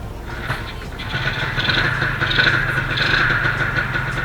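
Honda NSR R two-stroke motorcycle engine fired up with a replacement ignition box, running in a steady mid-pitched buzzing idle that swells slightly louder partway through, close to the microphone with no talking.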